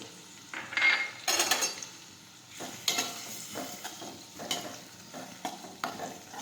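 Tomatoes and ginger sizzle in a pan with onions as a spoon stirs them, the scraping strokes and clinks against the metal coming in irregular bursts over a soft frying hiss, with no voices.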